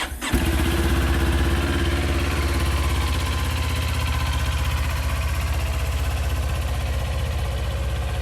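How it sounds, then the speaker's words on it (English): A 2019 Kawasaki Ninja 400 sports tourer motorcycle fires up with a brief starter whir, then settles into a steady, loud, close idle with an even rhythmic engine throb throughout. "Let's just give her a start up for you."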